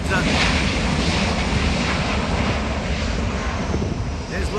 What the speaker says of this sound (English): Lufthansa's on its way for a takeoff.